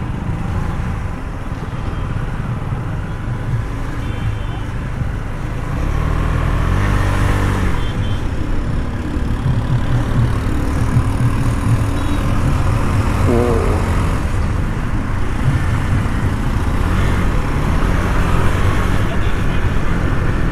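A KTM Duke 390 motorcycle ridden fast on an open road, a steady loud engine drone and rushing wind noise running throughout, with no speech.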